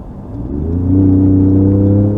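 A 2019 Ford Raptor pickup truck accelerates hard, its engine note climbing steadily in pitch over about two seconds with a strong, smooth whirring rumble that grows louder, heard up close from the cabin.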